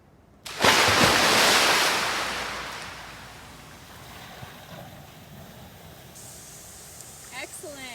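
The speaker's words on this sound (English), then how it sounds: "we are going to extinguish the flames" Cold water from a bucket poured onto a campfire hits with a sudden loud rushing hiss that slowly fades into a soft steaming crackle.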